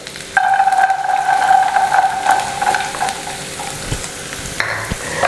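Carrot and green chilli stir-fried for restaurant-style egg fried rice, a steady close sizzle with stirring scrapes in the pan, strongest early then settling, with a couple of utensil knocks near the end and no talk.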